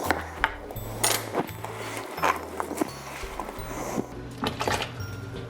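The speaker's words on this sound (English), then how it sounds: "I'm just going to cut this into thirds and then give it a quick chop" A knife thuds repeatedly on a cutting board chopping red potatoes in quick, uneven chops, close and fairly quiet.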